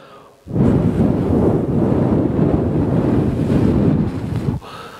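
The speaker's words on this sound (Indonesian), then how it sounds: "Sepertinya ada suara angin." Wind sound effect in a Sunday school story, a loud steady roaring gust that rises abruptly, blows for about four seconds with slight surges, then cuts off.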